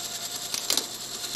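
A machine tapping threads into a metal part for a grinding fixture, run at higher RPM, gives a steady close whirring hiss with faint rhythmic mechanical ticks and a brief louder clatter near the end.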